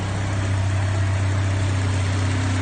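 A race-build car engine idling with a possible exhaust leak, a steady low rumbling hum heard up close with no talk.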